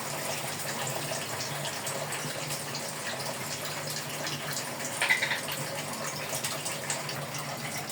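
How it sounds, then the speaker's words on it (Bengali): A little water poured into chicken curry cooking with ginger, garlic and cumin paste, a faint, steady pouring gush heard alone. "সামান্য পরিমাণ পানি দিয়ে দিলাম।"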